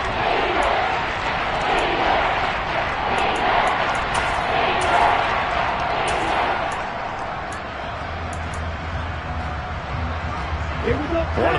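A stadium crowd cheers at a football game ahead of a big third down, a dense sustained roar that swells and then eases slightly, with a commentator's voice talking over it.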